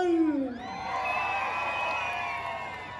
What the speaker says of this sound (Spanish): ¡Aplauso para Ivonne!